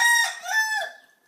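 A rooster crows once, a close and loud drawn-out call that rises, dips and then trails away to silence, with no one talking.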